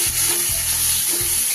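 Spiced egg masala for a restaurant-style egg dopeyaja frying in a pan, a close, continuous sizzle broken by regular scraping stirring strokes about every half second.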